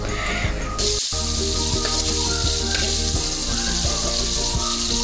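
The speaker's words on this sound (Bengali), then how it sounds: "চিংড়ি অনেকক্ষণ রান্না করা যায় না, এজন্য এটা খুব সামান্য সময়ের জন্য আমরা ভেজে হালকা লাল করে এটিকে উঠিয়ে নেব" Marinated prawns fry in soybean oil in a pan for a coconut prawn malaikari, giving a loud, steady sizzle with crackling pops and a brief stirring scrape near the start, with no talk.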